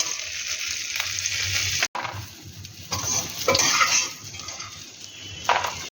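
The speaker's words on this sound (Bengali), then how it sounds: "ভেজে নেব" Drumstick pieces (moringa) frying in a pan for Bengali shukto: a steady close sizzle with scraping stirs and occasional clinks, briefly dropping out near two seconds before resuming.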